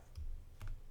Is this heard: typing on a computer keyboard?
yes